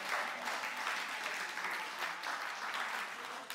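Church congregation applauding, a dense, steady wash of many hands clapping throughout, loud and sustained, with faint voices mixed in.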